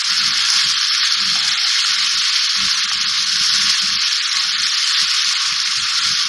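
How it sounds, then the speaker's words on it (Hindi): Tomatoes and garlic-ginger paste fry in a pan for a dhaba-style matar paneer curry. A loud, continuous sizzling hiss is broken by repeated soft scraping as a spoon stirs the mixture. "टमाटर और लहसुन अदरक शामिल करने के बाद मैं थोड़ा सा भून रही हूँ"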